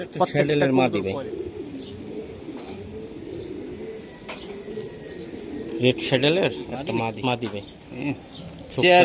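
Racing pigeons coo in soft, rounded bursts at close range while someone talks over them, with some handling noise and louder cooing near the end.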